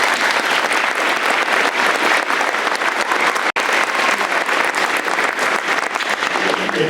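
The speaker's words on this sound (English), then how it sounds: "let's give them a round of applause" Steady, dense audience applause fills a school awards-night hall for the state-level speech team, loud and continuous throughout with one brief cut partway through.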